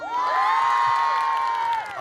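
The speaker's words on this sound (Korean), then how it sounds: "우리 수빈이 형한테 고생했던 박수!" A crowd of fans at a TXT event lets out a sustained, high-pitched collective cheer that swells and holds for about two seconds before fading.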